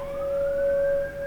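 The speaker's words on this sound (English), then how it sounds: "the sirens are going off again" A tornado warning siren wails steadily outdoors near an apartment complex, a single sustained tone that rises and swells slightly without any speech.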